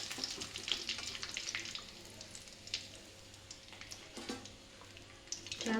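Chilapi fish frying in a pan of oil, a continuous close sizzle with scattered crackles and the occasional scrape of a spatula, steady and unbroken, with no talking.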